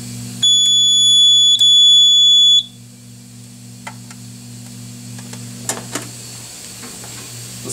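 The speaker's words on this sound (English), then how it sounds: "we can silence the alarm and also reset the system" A fire suppression system alarm on a Semitool SST 421-280 shrills in loud electronic beeps for about two seconds, then cuts off, leaving a low steady hum with a few faint clicks.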